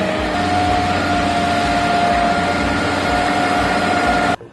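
A Valtra tractor's high-horsepower engine runs steadily with a low rumble and a constant tonal whine, hitched to a Gera R16 trailer, continuous and close for several seconds before cutting off abruptly.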